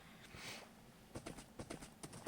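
A horse's hooves clop quietly in the Minecraft video game, a faint run of evenly spaced steps over low background hiss after a soft swell of noise.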